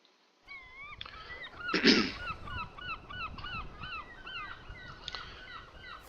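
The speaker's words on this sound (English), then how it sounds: "got a lot of environmental sounds with birds and stuff" Many birds chirp and call in repeated warbling phrases in Farming Simulator 19, with honks and caws mixed in and a brief rustle, forming a busy outdoor chorus.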